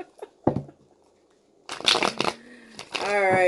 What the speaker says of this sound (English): I do shuffle until I'm told to stop shuffling